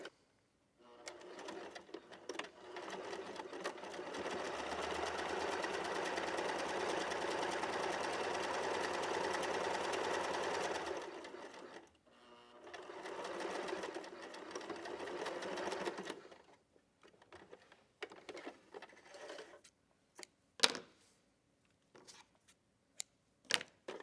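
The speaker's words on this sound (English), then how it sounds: "do your zigzag stitch, and then add your basic seam" A sewing machine doing a zigzag stitch to finish a fabric seam runs continuously for about ten seconds with a fast, steady whir, pauses, runs briefly again, then gives way to scattered clicks and handling sounds.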